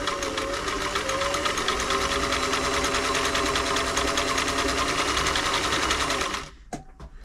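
An old all-metal Singer 348 sewing machine stitches a wide zigzag, a loud, fast and even mechanical rattle with a slightly noisy underside that runs without pause for over six seconds, then cuts off into a few faint clicks.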